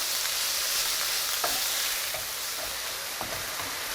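Meat browns in a pan for Persian Loobia Polo, giving a steady loud hiss of sizzling fat with occasional faint stirring clicks, close up and without talk.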